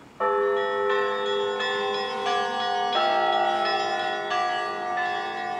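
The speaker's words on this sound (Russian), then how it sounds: "Колокольный звон возвещает о прибытии архиепископа." Orthodox church bells peal for an archbishop's arrival, several bells of different pitches struck in a lively overlapping rhythm, loud and resonant throughout with no voices.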